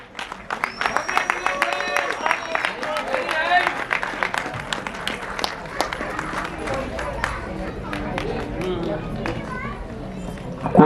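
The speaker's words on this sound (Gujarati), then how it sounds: "આપ સૌની તાળીઓ સાથે સૌપ્રથમ આ ફિલ્મના દિગ્દર્શક અખિલ કોટક" An audience claps at the Ahmedabad premiere of a Gujarati film as the director is called up, a dense burst of applause and crowd noise mixed with voices and shuffling footsteps.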